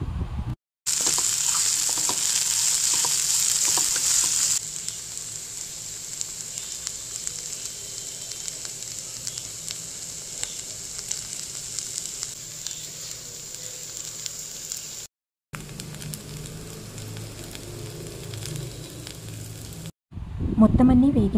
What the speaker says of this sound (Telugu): దొండకాయలు కొంచెం వేగిన తర్వాత కొత్తిమీర, చింతపండు అలాగే కొంచెం ఉప్పు వేసి వేగనివ్వండి.